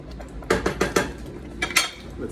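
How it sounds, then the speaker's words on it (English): A spoon stirs apricot lavender jam in a cooking pot, with a quick run of four or five scraping clinks, a short pause, then a couple more knocks against the pot, close and fairly quiet. "Let's stir this one."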